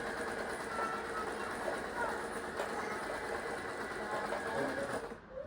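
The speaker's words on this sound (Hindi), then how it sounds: "निकाली मैंने अपनी मशीन और लग गई सिलाई करने के लिए" A twelve-to-thirteen-year-old home sewing machine stitching a mattress cover, a steady rapid mechanical rattle running throughout at moderate level before stopping near the end.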